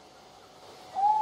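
An owl hoot sound effect plays quietly in an online tabletop roleplaying game: a single soft, sustained hoot rises near the end over faint background ambience.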